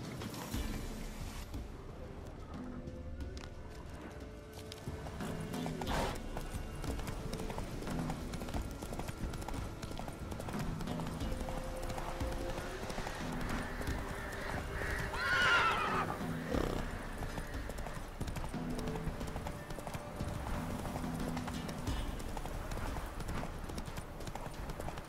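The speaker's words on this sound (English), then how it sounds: "Whoa there, Roach" A horse in the video game The Witcher 3 trotting with steady clip-clopping hooves and letting out a neigh, heard over a continuous bed of game ambience.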